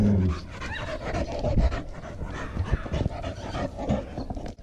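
A thirsty, anxious American Pit Bull Terrier panting in a backyard, with quick rhythmic breaths up close, a few low snuffles and small vocal noises mixed in.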